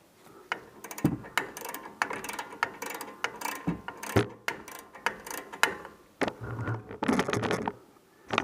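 A ratchet clicks as it tightens down a left brake rotor on a Nissan Titan. Irregular bursts of close metallic clicks and ticks come in quick runs with brief pauses, and there is no talking.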